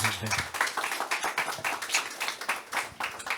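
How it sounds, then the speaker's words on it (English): Brief burst of audience applause for a panelist at a crop diversity panel event, a dense patter of clapping that starts right away and holds steady before fading at the end. "Please, round of applause"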